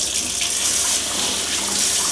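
Warm water runs loudly from a sink faucet during a Golden Retriever puppy's bath, a steady close hiss and splash with no talk.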